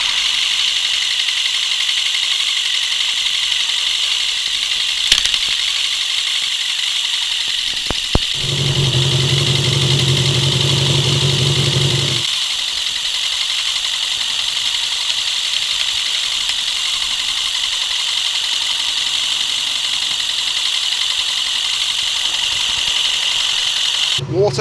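Motorcycle engine idles steadily on the clutch side as heard through a mechanic's stethoscope, a close, constant mechanical drone with a brief lower thrumming interval and faint handling noises.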